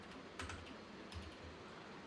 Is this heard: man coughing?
no